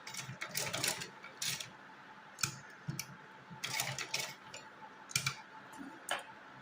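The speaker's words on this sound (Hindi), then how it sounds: "अब इसके ऊपर सिलाई लगाएंगे" Sewing machine stitching pleats onto a heavy doll dress for Laddu Gopal, heard as quick close mechanical ticking and clicking in several short bursts separated by brief pauses.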